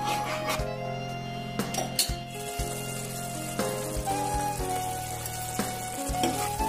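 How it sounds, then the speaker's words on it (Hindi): Ginger garlic paste masala frying in a pan for a chicken gravy, a steady close sizzle with intermittent scraping and stirring strokes throughout, no talk. "इसको थोड़ी देर छोड़ छोड़ के हिलाते रहिए"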